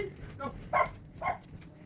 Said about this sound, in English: You make my dog bark.